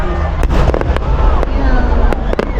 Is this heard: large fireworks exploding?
yes